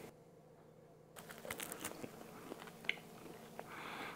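Biting and chewing into toast spread with peanut butter, close, faint crunches and crumbly chewing sounds after a short quiet start.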